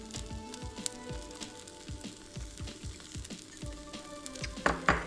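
Chaffle batter topped with sprinkled Parmesan cheese sizzles inside a Dash mini waffle maker, a soft continuous crackle with scattered small pops and a brief louder clatter near the end.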